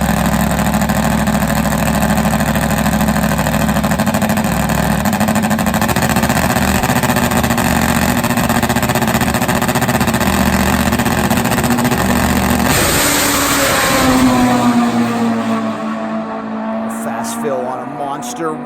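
Top fuel turbo drag motorcycle engine at a drag strip, loud sustained roaring rev that holds steady, then surges and falls away near the end, heard up close with a crowd wash behind it.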